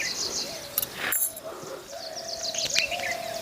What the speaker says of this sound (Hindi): घूती घूर रही है, घूती।